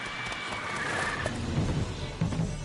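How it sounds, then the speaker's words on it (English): Horse neighing in the video game The Witcher 3, a whinny followed by rumbling galloping hooves, fairly faint and mixed with game ambience. "so fast, Roach."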